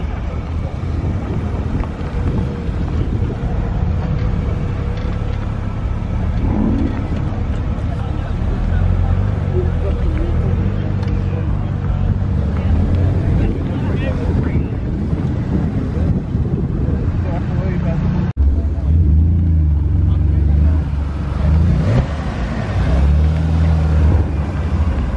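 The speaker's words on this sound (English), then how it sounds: "Group of BMWs just turned up." A group of BMWs on Alpina rims arrives at a Christmas breakfast car meet at the Haynes Motor Museum: a continuous low engine rumble with heavy wind buffeting on the microphone and faint voices.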